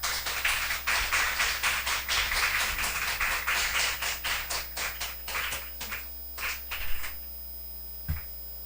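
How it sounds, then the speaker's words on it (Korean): A Korean church congregation at a Wednesday prayer service claps to welcome the pastor to the pulpit, steady rhythmic clapping for several seconds that thins out into a few last claps and a thump. "박수로 환영해 주셨으면 감사하겠습니다."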